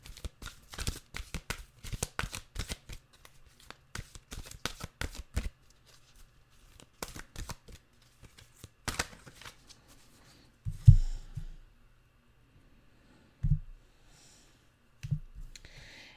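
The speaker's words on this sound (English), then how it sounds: "Let's get a Journey of Love card," A deck of Journey of Love oracle cards is shuffled up close in quick bursts of riffling clicks for about five seconds, then in sparser snaps, followed by a few soft breaths and handling thumps.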